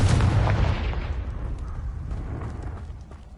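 Confringo spell cast in the Hogwarts Legacy video game: a single loud fiery blast that booms at the start and rolls off into a rumbling decay, with no voice over it.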